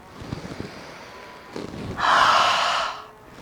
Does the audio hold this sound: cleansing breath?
yes